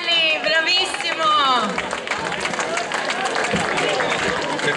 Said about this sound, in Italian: Un bel applauso ancora a Gianluca Smarrelli, bravissimo!